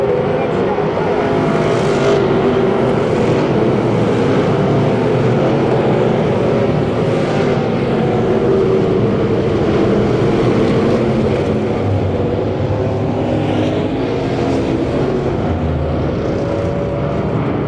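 Thumper class race cars roar around the 81 Speedway oval in a loud, continuous engine drone that rises and falls as the field passes, with a track announcer talking over it.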